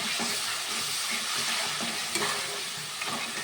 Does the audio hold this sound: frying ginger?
yes